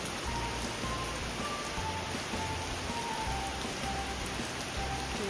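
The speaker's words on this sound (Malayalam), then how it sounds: "സൂപ്പർ മഴയാണ്." Heavy rain pours down in a dense, even hiss with thick patter on surfaces, constant and enveloping for the whole stretch, no voices over it.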